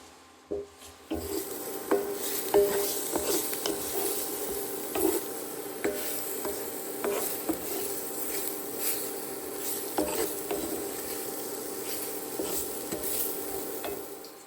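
Large mushrooms sizzle steadily in a hot pan while being stirred and scraped, with repeated clinks and knocks of the utensil against the pan throughout, close and moderately loud, no talking.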